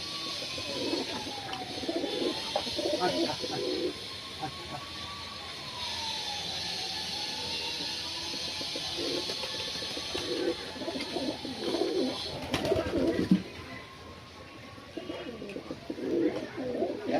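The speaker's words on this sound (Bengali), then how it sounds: "দাদা পায়রাগুলো উড়াউড়ি করছে, একটু নামিয়ে নি।" Fancy pigeons coo with low, repeated throaty calls while flapping about nearby, wingbeats and rustles mixed with a distant droning hum in the background.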